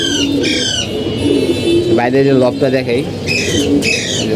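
Game pigeons coo in a loft, low throaty murmurs running steadily under a voice, with brief higher squawks at the start and end.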